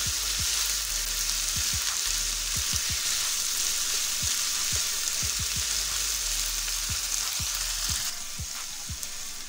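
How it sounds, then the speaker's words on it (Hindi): Tomatoes fry lightly in a pan for keema, a steady bright sizzle running throughout with scattered soft pops and light spoon taps, close and continuous, easing slightly toward the end. "टमाटरों को भी इसमें हल्का हल्का हम भूनेंगे"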